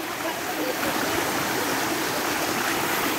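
Very cold stream water rushes and splashes steadily and loudly, close by, as a continuous broadband flow with no talk over it.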